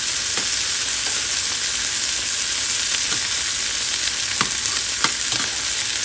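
Garlic and onion cooking in a pan on low heat, giving a constant, even sizzle with occasional light ticks from stirring, close and unbroken with no speech.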